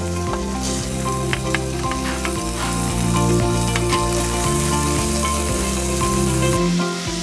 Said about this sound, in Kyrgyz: Биринчи очередь биз этти кууруп алабыз.